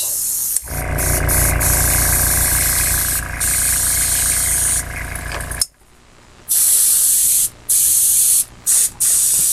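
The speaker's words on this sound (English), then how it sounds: "I like doing the airbrushing." Airbrush spraying paint onto a hanging monkey figure, a steady loud hiss lasting about five seconds, then shorter on-off bursts of spray with brief pauses between them.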